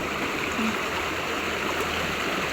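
Strong running water pours steadily from a tap or stream nearby, a loud continuous rushing wash with no pauses, filling the whole clip.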